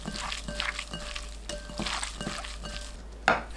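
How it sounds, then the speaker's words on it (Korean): Dried radish strips are tossed and mixed with soy sauce and perilla oil, giving soft, wet, sticky squelching and rustling in short irregular bursts, close and fairly quiet, with a sharper clink near the end. "무말랭이에 진간장 1큰술, 들기름 1큰술 버무립니다"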